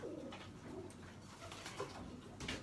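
Pigeons cooing in a loft, several soft throaty coos repeating close by against a quiet background.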